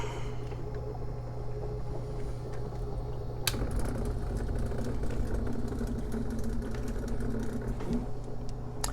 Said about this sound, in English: So, as a second safeguard, let's restart this pump.